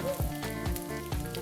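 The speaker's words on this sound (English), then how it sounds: "I'm adding the sausage to that pan over there. Just to warm it up." Precooked sausage warming in a frying pan, a steady sizzle with soft stirring or scraping strokes repeating about every half second, close and fairly quiet.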